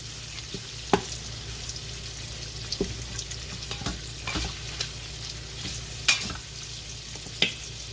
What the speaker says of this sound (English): we want to brown our beef on all sides